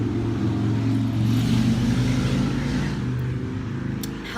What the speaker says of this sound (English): Hello, Mr. Motorcycle.